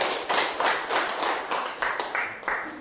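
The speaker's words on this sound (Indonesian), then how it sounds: "Baik, tepuk tangan untuk kelompok 2." A small classroom group claps in an uneven burst, individual hand claps audible and fairly close, with a faint voice underneath.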